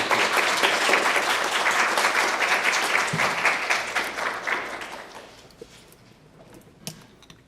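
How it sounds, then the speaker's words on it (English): A university audience applauds a guest speaker, a full, sustained crowd clap that tapers off after about five seconds into quiet with a few stray claps. "please give a round of applause for our guest,"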